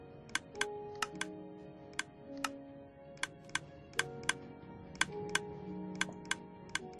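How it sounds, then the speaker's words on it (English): Minecraft dropper clicking each time a minecart rolls over a detector rail: sharp, evenly spaced clicks, roughly two per second, stand out clearly over a soft, steady game hum with no talking. "every time it goes over the detector rail, over the dropper, it clicks and it fires something out"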